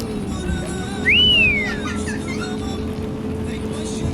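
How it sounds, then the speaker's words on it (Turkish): One brief rising-then-falling whistle from a person inside a car, close and clear over the steady hum of the running car engine. "Az önce ıslık öttürdüm."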